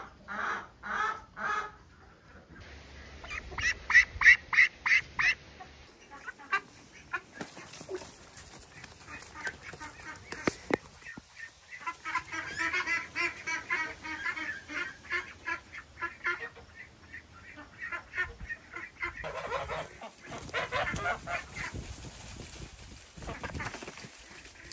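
A flock of farm ducks, newly moved into another group, quacking and honking in overlapping bursts, close and lively, with a person talking briefly among the calls.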